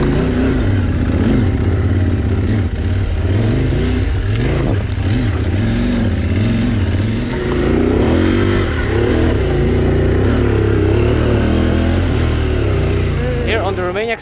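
A CFMOTO 800 MT-X adventure motorcycle rides off-road trails on the Romaniacs course, its engine droning loudly and close, rising and falling in pitch with throttle changes and a faint clatter throughout.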